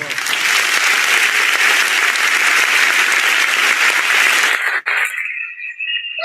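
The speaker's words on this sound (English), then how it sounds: "Please put your hands together for Darasimi as well." Loud, sustained audience applause fills a youth dialogue hall with Peter Obi and Baba-Ahmed, dense clapping steady for several seconds before breaking off abruptly and fading into room noise.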